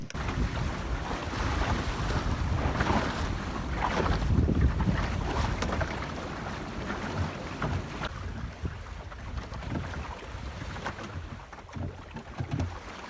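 Sailboat crossing the wide bay of Douarnenez in wind, with steady rushing wind noise on the microphone and water washing against the hull, continuous and fairly loud without speech.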